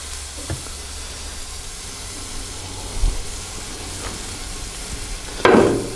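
Shrimp and vegetables steam under a lid in a pan, giving a steady soft hiss with faint clinks and a sharper burst near the end.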